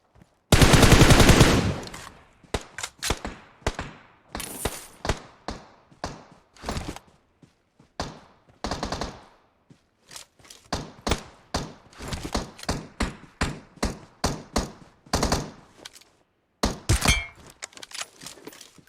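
Gunfire in the mobile battle royale game PUBG Mobile opens with a long dense automatic burst, followed by many separate loud shots and short volleys spread irregularly, with brief silent gaps between them.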